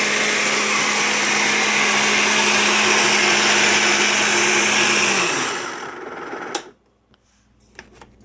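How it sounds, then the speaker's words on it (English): A kitchen blender whirs loud and steady for about five seconds while it breaks down sugar and milk for cassava pone, then winds down and stops, followed by a few faint clicks and handling noises. "I've got the blender going just to break down the sugar and the milk"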